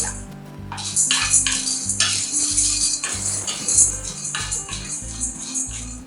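Chana dal (split chickpeas) dry-roasting in a pan for curry leaf powder, with repeated scraping and rattling of a spoon against the pan and dry lentils shifting, steady and close, no talk.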